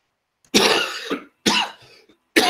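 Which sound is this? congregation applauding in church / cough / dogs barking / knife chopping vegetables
cough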